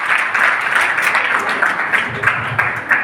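An audience at an award ceremony claps continuously throughout, a dense, close patter of many hands with slight swells in intensity.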